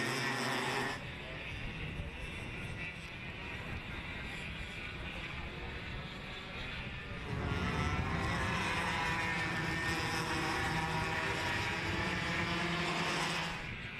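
A pack of KA3 Senior Light racing karts runs bumper to bumper up the main straight at a Western Australian kart championship, their engines blending into a steady buzzing drone that swells louder partway through.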